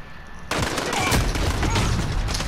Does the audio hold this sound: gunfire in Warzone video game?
yes